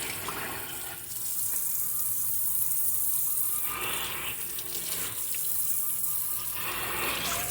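Faucet water runs steadily into a sink while turnip green leaves are rinsed under it, a close, continuous splashing rush that swells and shifts as the leaves move through the stream.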